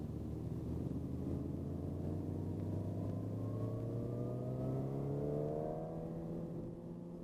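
A Suzuki GSX-R 1000 motorcycle pulls away under throttle on back roads, its engine note steadily climbing in pitch through a long, smooth acceleration, close and continuous with wind rumble underneath, easing off at the end.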